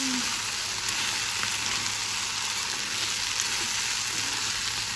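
Okra (bhindi) fries in a pan with a steady, dense, close sizzle that runs unbroken with no talking.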